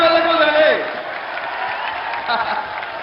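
Crowd applause for a singer at a Thingyan water festival concert in Myanmar swells in after a fading sung note, continuing as a steady clapping wash at moderate volume.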